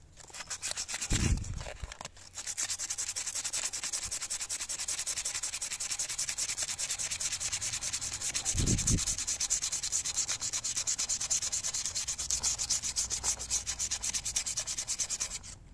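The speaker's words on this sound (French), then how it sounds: "tant que tu sens avec l'ongle, en fait, faut continuer de poncer" Hand sanding of an aluminium wheel rim with 120-grit sandpaper, a steady close scratchy rub running almost unbroken, with two brief low thumps near the start and midway.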